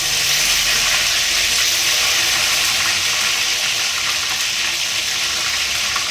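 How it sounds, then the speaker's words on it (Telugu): Ginger garlic paste frying in hot oil for a chicken pickle, giving a steady, loud, hissing sizzle that holds evenly throughout with no speech. "ఇప్పుడు వచ్చేసి అదే ఆయిల్లో అల్లం వెల్లుల్లి పేస్ట్ అయితే వేసేస్తాను"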